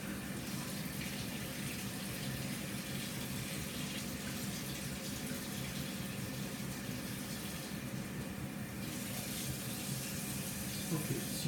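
Water runs steadily from a tap after a Saunier Duval gas boiler's igniter is replaced, a continuous broadband rush that stays at an even, moderate level throughout.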